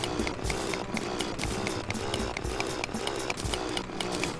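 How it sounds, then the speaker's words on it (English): Drill mining blocks in Terraria on Xbox 360, a rapid buzzing whir with regular clicking block breaks in a steady rhythm, continuous and fairly loud. "Oh man, I love this little drill."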